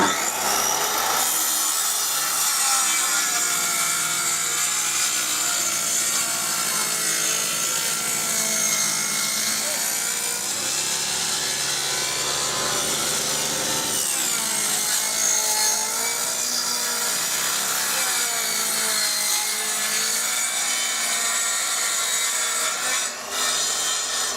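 A Crown-brand circular saw runs steadily through wood, a loud continuous whining grind that holds for the whole stretch with slight shifts in pitch.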